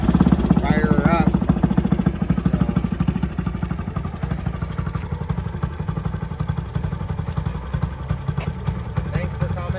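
A pocket bike engine is fired up and settles into a rapid, even, putt-putting idle that carries on steadily at close range, with a short voice-like sound near the start.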